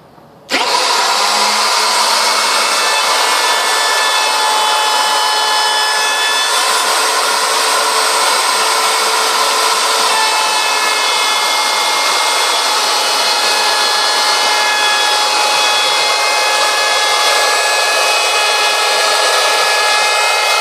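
Ryobi R163G fixed base router starting up and running continuously, a loud, steady high-pitched electric whine that holds close and unbroken after a brief quiet start.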